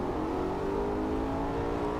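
A Maserati GranTurismo engine revs in a VR driving game, a steady mid-pitched engine hum with a constant harmonic whine, held at a fairly even loudness.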